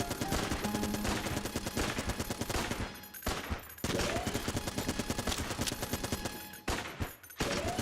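Rapid bursts of gunfire from the dungeon-crawler shooter Enter the Gungeon, dense overlapping shots under game music, loud and nearly continuous with two brief gaps.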